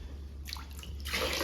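Homemade phenyl cleaning liquid is poured into a container. A quiet splashing trickle starts partway through and swells into a fuller, louder pour near the end, with no voices.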